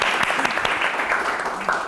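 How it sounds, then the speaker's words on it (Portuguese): A crowd at a university freshman welcome talk show applauds steadily, a thick wash of clapping with scattered sharp hand claps throughout, fairly loud and with no speech over it. "Aplausos, gente."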